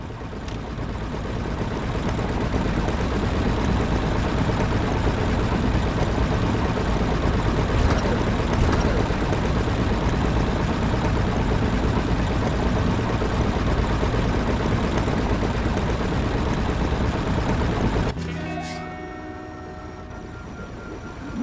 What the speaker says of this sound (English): The engine is engaged and we are starting our ascent.